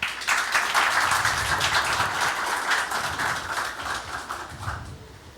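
An audience applauds steadily after results are announced at a Haitian high school quiz competition. The dense clapping runs throughout and fades toward the end.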